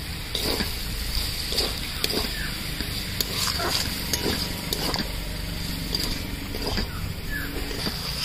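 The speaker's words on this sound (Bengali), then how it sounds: "এবার এটাকে কষিয়ে নিচ্ছি ভালো করে" Vegetarian pointed gourd curry with asafoetida being sautéed in a pan, a steady sizzle with repeated scraping strokes of a spatula against the metal, close and fairly loud with no voice over it.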